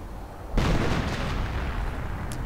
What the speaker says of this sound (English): The howards are firing again.